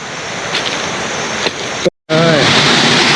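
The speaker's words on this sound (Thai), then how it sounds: "น้ำตก" Makok waterfall gushing in Chanthaburi, Thailand, a loud, broad rush of water with a brief dropout near two seconds before the roar resumes.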